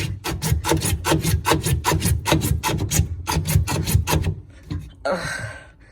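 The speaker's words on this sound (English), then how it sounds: "So I'm just cutting through the PCV." Hand saw cutting through PVC pipe under a kitchen sink, about twenty quick rhythmic rasping strokes close by, then a pause and a brief scraping rustle.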